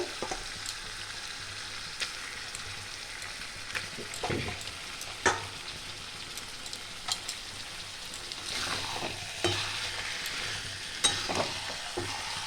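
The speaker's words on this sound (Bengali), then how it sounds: "চিকেনগুলো ভালো করে নাড়াচাড়া করতে হবে।" Chicken fries over medium-low heat in a pan, a continuous sizzle broken by scraping stirs and occasional clacks of a spoon against the pan, close and steady with no talk.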